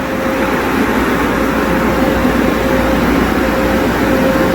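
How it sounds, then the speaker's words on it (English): Airstream air dryer at an old Belanger-system car wash blowing: a loud, steady roar of rushing air with a low hum, continuous and close for several seconds. "Show you this dryer and then that's it."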